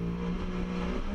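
Race car engine at a PCCA Korea race, revving hard with a steady, loud droning tone as the driver gets on the throttle and accelerates away, continuous and close with no talk over it.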